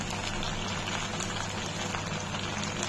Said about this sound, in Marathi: दोन्ही बाजून हे तळून घेते। मस्त तेल टाकलेलं आहे।